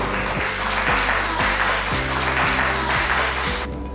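An audience at an achievers award ceremony applauding, a thick wash of clapping over a low steady hum that cuts off abruptly just before the end.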